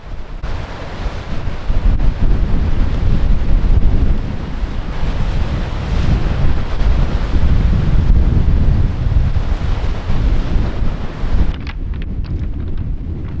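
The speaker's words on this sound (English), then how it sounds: "The wind was a lot stronger today," Strong wind buffets the microphone on a wild Maine coastline beach as rough ocean waves crash and roar, loud and continuous before easing slightly near the end.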